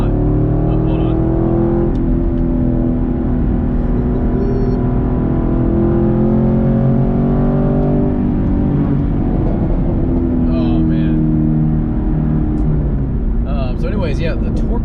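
A 2019 Chevrolet Camaro 1LE accelerating, its deep engine rumble rising steadily and loud from inside the cabin, with a driver talking over it the whole time.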